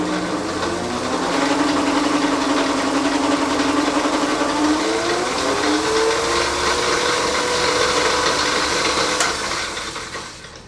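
A wood lathe spins up on a test run before turning new legs for a Voice of Music record player, giving a loud, steady whirring hum with a rising and shifting tone that fades slightly at the end, close by with no voices.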